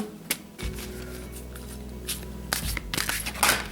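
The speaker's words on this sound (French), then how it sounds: "on va donc tirer les cartes" Oracle cards from a forest spirit deck being shuffled and drawn by hand, a run of soft riffling flutters and crisp slaps close up, growing busier toward the end, with no talk.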